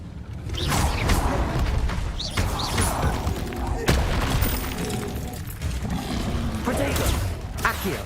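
Incendio fire spell cast in Hogwarts Legacy, giving whooshing bursts and dull booming thuds over busy, continuous game combat noise, with a voice talking over it.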